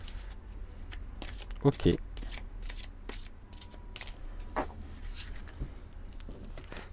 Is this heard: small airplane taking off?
no